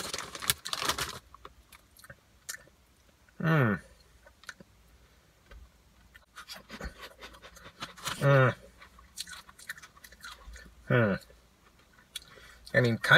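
Potato chips are chewed up close in crisp, irregular crunches and clicks, interrupted by several short spoken bursts.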